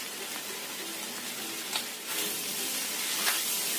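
Fried rice and fried rice-vermicelli noodles are stirred in a hot pan, a soft steady sizzle with a few brief scraping strokes, fairly quiet and close, with no voices.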